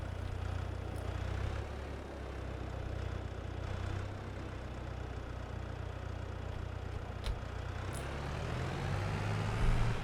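A tractor in the video game Korpi rumbles along steadily with a low, continuous engine drone, close and fairly loud throughout, rising slightly toward the end; no voices are heard.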